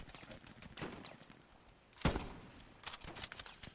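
Gunfire in the Hell Let Loose video game, scattered bursts of shots with one sharp loud report in the middle and further rapid shots afterward, fairly faint overall with no talking.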